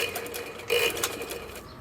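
A sewing machine runs steadily, stitching the side seam of a cotton kurta with the fabric turned under, a close, even whirring hum with a slight surge partway through.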